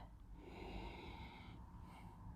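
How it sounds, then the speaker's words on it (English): A single sustained sniff of wine from a glass, close and breathy, drawn in steadily for over a second with a brief second inhale at the end. "The sniff."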